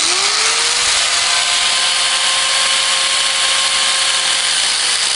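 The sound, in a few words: cutting clutch friction material for a Puch E50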